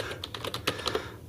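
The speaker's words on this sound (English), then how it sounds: "I suck at typing." Quick bursts of typing on a computer keyboard, several sharp clicking keystrokes in an uneven rhythm, close and clear with no talking.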